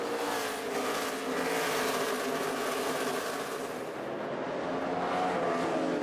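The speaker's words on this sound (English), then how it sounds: "Jeff Gordon racing for third with Kyle Busch." Stock cars roar around Richmond International Raceway during a 2011 NASCAR Sprint Cup race, a loud continuous engine drone that swells and fades slightly as the pack passes, no voices heard.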